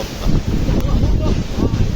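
Sea waves crash against the wall of Fort Aguada in Goa, a loud, rough surging rumble. Heavy wind buffeting on the microphone partly masks it.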